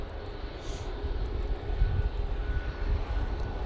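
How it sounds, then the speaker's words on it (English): A Singapore Airlines Airbus A350-900 arriving from Singapore at windy Manchester Airport produces a steady low engine rumble mixed with wind buffeting, sounding fairly distant and continuous throughout. "Next in will be the Singapore Airlines A350-900 coming in from Singapore"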